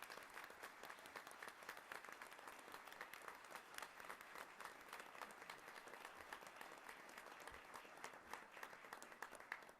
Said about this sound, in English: we're going to give a round of applause to everybody at this time